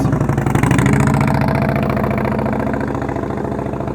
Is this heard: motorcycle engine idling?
yes